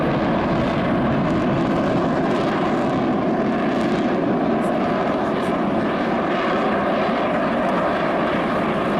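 Saab Gripen fighter jet flying at the 2017 Jesolo European Air Show, a loud steady engine roar that holds for the whole stretch with no break.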